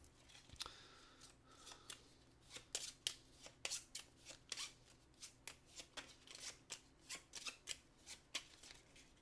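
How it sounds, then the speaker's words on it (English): Rapid riffle shuffles of a board game card deck during a co-op tabletop session, a regular series of crisp, close flutters repeating about every half second. "we're going to take his deck and shuffle them into these cards"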